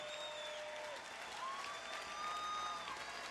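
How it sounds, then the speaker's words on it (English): A boxing crowd applauds steadily after a fight, a dense wash of clapping heard from a distance with faint cheering mixed in. "let's give these two fighters a tremendous round of applause"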